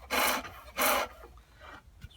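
A gouge cuts green wood on a foot-powered pole lathe, peeling off thin feathery shavings in two loud rasping strokes with a pause between, followed by a softer third scrape, close and alone.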